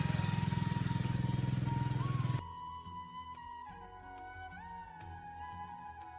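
A motorcycle ridden at night on a cold, foggy road runs with a loud, pulsing engine at first, then drops to a quieter, steadier hum as it rides on.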